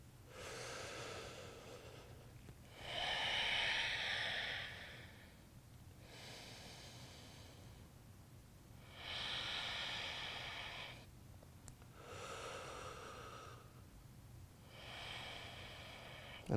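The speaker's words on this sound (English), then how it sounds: "Start slowing down your breathing." Slow, deliberate breaths during a men's yoga session for shoulder relief: long airy inhales and exhales repeat in a steady cycle, close and soft over faint background hiss.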